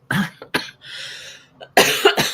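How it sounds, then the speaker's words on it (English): A close, harsh cough, then a couple more short coughs after a brief breathy gap, loud and near. "I was coughing again on here with you"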